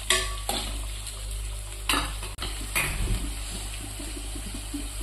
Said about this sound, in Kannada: ಈ ಗ್ಯಾಸ್ ಏನೈತಿ ಜೋರು ಮಾಡಿ ನೀವು ಇದನ್ನು ಹುರ್ಕೋಬೋದ್ರಿ.